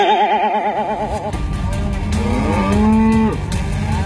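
A buffalo lows with a long, wavering, deep bellow that slides in pitch and then fades, loud and close, with human voices mixed into the scene.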